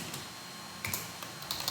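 Computer keyboard keys pressed in a short burst while entering an Alt code, a few close, crisp clicks in quick succession.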